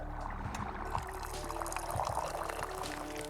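Liquid pours in the video game Wanderstop, a steady soft splashing stream that runs continuously and fairly faintly over a low background hum, with no voices.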